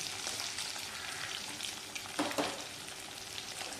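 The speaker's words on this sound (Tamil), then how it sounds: "வெங்காயம் வதங்குறதுக்காக கொஞ்சம் உப்பு போட்டிருக்கேன்." Small and large onions sauté with salt in a pan for a bitter gourd tamarind curry, giving a faint, steady sizzle broken by a couple of brief stirring clatters near the middle.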